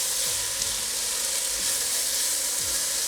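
Onions and garlic sizzling in oil in a pan for white chicken chili, a loud continuous frying hiss with occasional stirring scrapes, close up and without talk.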